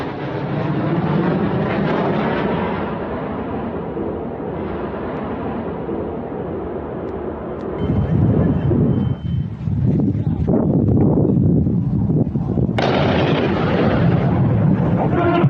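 Fighter jet footage from a missile strike, a loud continuous roar of engine and wind noise that shifts midway into heavier rumbling bursts and a sharp rise near the end, with no talk over it.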